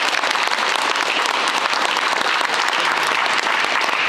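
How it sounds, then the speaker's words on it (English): Steady, dense applause from a crowd at a high school spring signing day at Dobyns-Bennett High School, sustained evenly throughout with no speech over it. "So let's give a round of applause."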